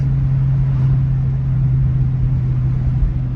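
A 2003 Ford Mustang GT V8 with new MSD coils pulls under part throttle, giving a steady loud low rumble and drone heard from inside the car, without a clear rise in revs.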